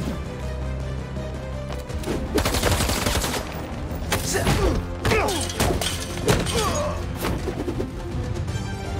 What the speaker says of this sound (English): Fireworks! They're lit!